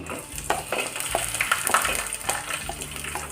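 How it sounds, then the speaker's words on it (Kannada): Green chillies frying in a hot pan while making khara bath, a steady crackling sizzle with brief louder pops and stir scrapes, close by, no voices. "ಇವಾಗ ಮೆಣಸಿನ್ಕಾಯಿ ಹಾಕ್ಕೊಳ್ತಿದ್ದೀನಿ"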